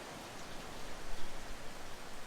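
Steady, dense hiss of monsoon rain falling close by on the Perhentian Islands, Malaysia, an even wash of noise with no voices.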